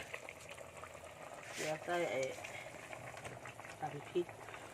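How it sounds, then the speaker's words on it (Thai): Catfish curry with coconut milk bubbles faintly at a boil in a pot, a soft low simmer with an occasional louder pop, under a nearby voice talking. "อ่ะเดือดพอดีแล้ว"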